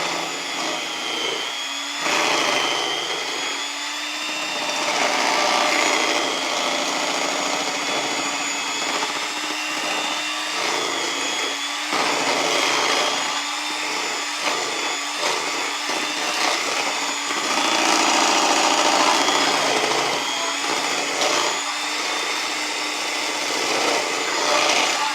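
Electric mixer running steadily while beating sour cream pound cake batter, a continuous whirring motor drone that holds fairly loud and even throughout with slight swells, no talking.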